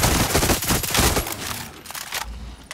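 Rapid bursts of Tommy gun fire in the Far Cry 6 video game, loud and close, a dense stuttering volley that thins out after about a second into scattered trailing shots and echoes.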